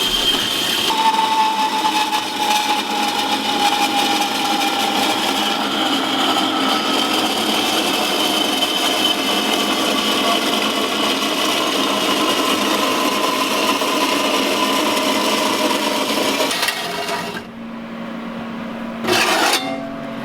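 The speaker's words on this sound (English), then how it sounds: "Why Sawzall the rest? It won't go all the way through because this is too tall." A Sawzall reciprocating saw cuts through a diesel exhaust tip with a steady, loud, gritty rasp that runs unbroken for about seventeen seconds, then drops off, with a short burst of cutting before it stops.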